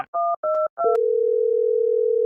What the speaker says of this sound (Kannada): ಪರವಾಗಿಲ್ಲ ಅವ್ರ ತಮ್ಮನ್ ಫೋನ್ ಮಾಡೋಣ.